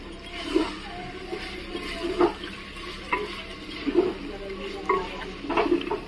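Onion paste frying with salt in a clay pot, a steady close sizzle broken by repeated stirring scrapes every second or so, with faint talk in the background.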